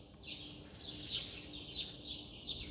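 Small birds chirp and tweet in short repeated calls, several in sequence at a moderate distance over a quiet background hum.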